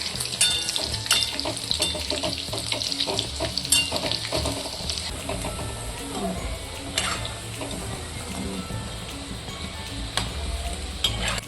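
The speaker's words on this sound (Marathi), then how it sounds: "आता ह्या पद्धतीने असं लालसर रंगावर हे तळून घ्यायचं." A methi and bajra flour snack fries in hot oil in a pan with a dense, bubbling sizzle, joined by stirring and scraping and occasional clinks of a utensil, close and steady throughout.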